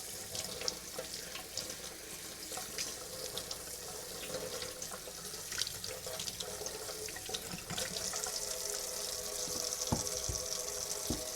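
Tap water running steadily into a sink while a filter is rinsed and cleaned, a constant hissing splash with small shifts as the flow is interrupted, fairly faint and close, no one speaking.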